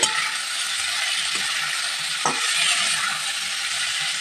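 Boiled ghatkol stems and jackfruit seeds being stirred into half-fried potatoes in a pan, with a steady close sizzle and occasional soft scraping of the spoon throughout.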